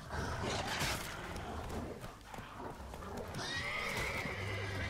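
A horse in The Witcher 3 video game gives a loud, close, shrill neigh with hoof clip-clops, followed by a sustained whinny tone at the end.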